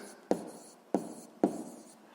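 A pen writes out a math exercise answer on paper in three short, close scratching strokes, each a sharp onset that fades, with quiet pauses between and no talk.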